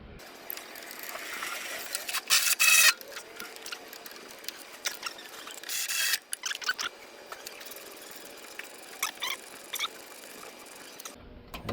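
Ratchet with extensions tightening a hard-to-reach back bolt on a Raymond 770-R45TT forklift drive motor during steer bearing repair, giving short bursts of rapid clicking separated by pauses, close and fairly quiet with shop background noise.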